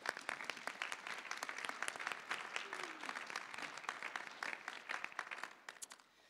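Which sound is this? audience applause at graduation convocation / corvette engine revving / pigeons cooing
audience applause at graduation convocation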